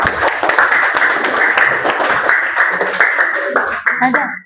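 A classroom group applauds: dense, fairly loud clapping holds steady for several seconds, then thins out as a voice speaks.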